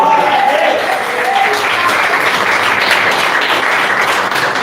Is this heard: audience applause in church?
yes